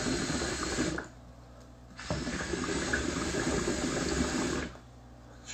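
Water bubbling inside a hookah on each draw, coming in two long gurgling bursts separated by quiet pauses, close and fairly loud.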